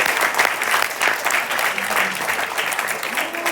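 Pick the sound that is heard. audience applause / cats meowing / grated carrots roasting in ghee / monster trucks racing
audience applause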